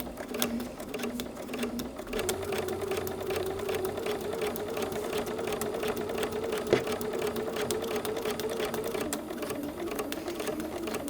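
A sewing machine stitches a quilt block seam for a Milky Way wall quilt, producing a steady, fairly quiet whirring rattle that runs continuously with no voices.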